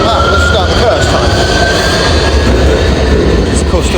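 A Nottingham tram passes close by with a loud, steady rumble and rolling rail noise, a thin rising whine running through it and faint clicks on top.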